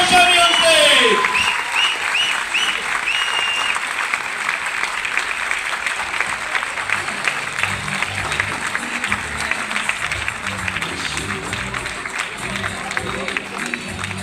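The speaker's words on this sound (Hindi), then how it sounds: "एक बार जोरदार ताली हो जाए" A stage-event audience gives loud, sustained applause as a speaker is welcomed on stage, a dense wash of clapping that stays steady throughout, with voices faintly mixed into the crowd noise.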